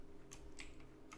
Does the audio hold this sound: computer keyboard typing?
yes